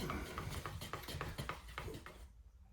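Automotive paint being stirred before spraying the bonnet of a 1969 Triumph Vitesse, with a quick series of light metallic taps and scrapes against the tin, evenly spaced and close, stopping abruptly.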